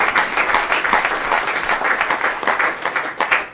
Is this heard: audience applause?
yes